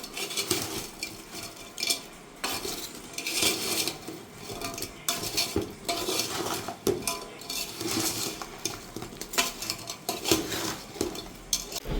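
Fried bread pieces and milk are stirred in a pot with a metal spoon, giving repeated scraping and clinking strokes at close range, moderately quiet and irregular over about twelve seconds.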